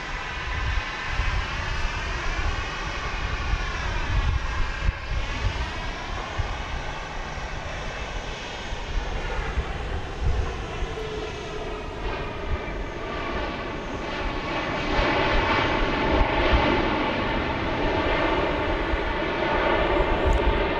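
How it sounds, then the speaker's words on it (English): A Boeing 737 MAX 8 arriving at Dallas Love Field from Nashville gives a long, loud jet engine roar with sweeping whines that shift in pitch as it passes, swelling louder toward the end, with no voices. "That's the MAX 8 from Nashville, flight 1445."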